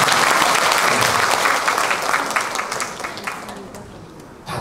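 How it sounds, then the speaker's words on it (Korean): Loud applause from an audience at a Korean singer's album release event bursts out close by and gradually tapers off over a few seconds. "박수 한 번만 해주세요"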